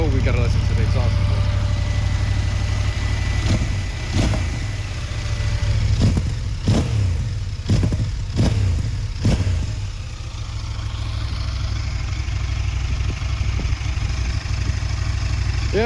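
A CF Moto 1000 MT-X (Ibex 950) motorcycle rumbles steadily at idle, with its exhaust note loud and close, and is blipped through several quick, sharp revs in a row. A voice talks briefly over it.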